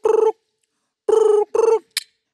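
A voice imitates a ringing telephone: three loud, close, trilling ring bursts with a pause after the first, then a brief high squeak, all against silence.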